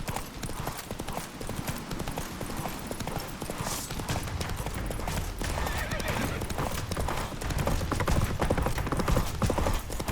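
Roach, a horse in The Witcher 3, gallops with steady, dense hoofbeats under a continuous wash of game sound, and a loud neigh cuts in near the start.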